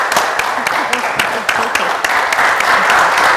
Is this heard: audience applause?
yes